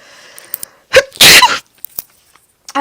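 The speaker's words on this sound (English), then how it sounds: "Hold on, I gotta sneeze." One loud, close human sneeze with a quick intake of breath just before it, followed by faint small noises in an otherwise quiet room.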